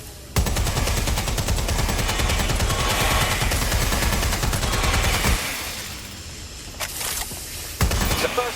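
Sustained rapid gunfire in Watch Dogs: Legion, a dense loud volley of automatic shots running several seconds, then thinning out with a few scattered bursts near the end.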